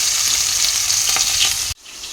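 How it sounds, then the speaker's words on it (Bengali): Fish pieces fry in hot oil in a home kitchen pan, giving a loud, steady sizzle with small crackles that stops abruptly, leaving a quieter kitchen hum. "এখানটায় হচ্ছে মাছ ভাজা"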